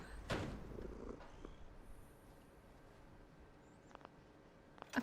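A domestic cat purrs close by in a quiet room, a soft, steady low rumble that continues throughout, with a few faint rustles and a brief louder noise at the end.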